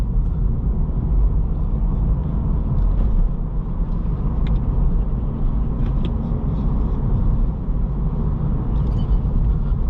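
A 2023 Acura Integra A-Spec accelerating hard from a launch: steady, loud engine and road rumble filling the whole stretch, with a dense low drone that holds constant and a few faint clicks on top.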